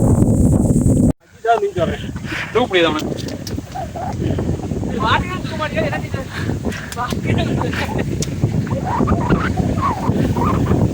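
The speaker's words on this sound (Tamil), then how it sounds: "காற்று சூப்பராக இருக்கு" Wind buffets the microphone on a rocky mountain trek up Renga Malai, a steady rushing roar that lasts throughout with voices talking underneath.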